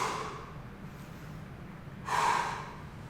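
A sharp breath drawn in and pushed out during a handstand, one quiet earlier breath followed by a louder, close gasp-like exhale with a snorting edge near the end.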